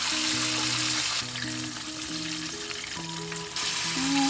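Chicken wings deep fry in hot grease with a steady, close crackling sizzle throughout, while a low musical tone plays in the background.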